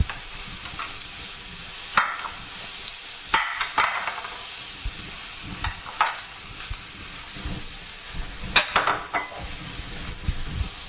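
Pieces sizzle and fry in a hot pan for a chicken tikka curry, a steady hiss with scattered sharp clicks and scrapes as the food is stirred and moved around close by.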